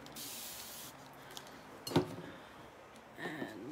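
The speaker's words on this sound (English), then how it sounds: "And I'm just going to give it another spray." A short spritz from a spray bottle hisses near the start, followed by a sharp knock and a second faint spray, all close by, while a craft board surface is cleaned.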